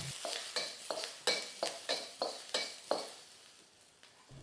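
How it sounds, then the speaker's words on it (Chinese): Scallion whites stir-frying in a wok for soy sauce prawns: a spatula scrapes and tosses in a regular rhythm of about nine strokes over a soft sizzle, close and without talk. "首先是下这个葱白啊，先炒一炒香，变香。"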